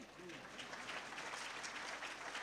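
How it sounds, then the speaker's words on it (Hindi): A seated crowd at a Jain religious discourse festival in Nasik claps faintly and steadily, a soft, distant patter of hands with no pauses. "ताली थोड़ी कम बज रही है"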